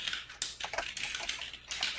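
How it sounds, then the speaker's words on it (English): Typing on a computer keyboard, a quick run of faint, uneven key clicks heard over a webinar call line, with no talking. "I can hear somebody's typing."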